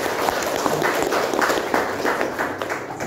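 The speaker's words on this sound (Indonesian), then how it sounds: "Sekali lagi kita kasih aplaus untuk" An audience applauding at a government staff meeting, dense overlapping clapping at moderate distance, steady across the whole stretch.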